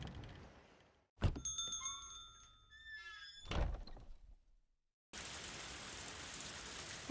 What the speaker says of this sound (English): Oh, it's just the storm, huh?